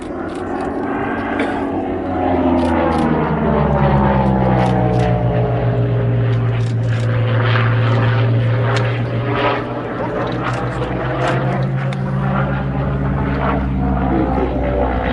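A Spitfire propeller aircraft engine roars loudly and continuously at an airshow, its pitch slowly shifting as it passes, with a throbbing drone throughout.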